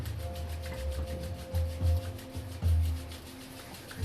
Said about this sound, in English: infuse your hands with love, rubbing them together